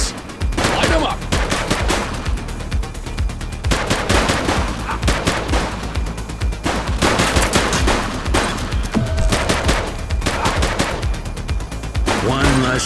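Repeated bursts of police gunfire in the video game The Precinct, dense rattling volleys and single shots spread across the whole stretch, loud and close, with some game voices mixed in.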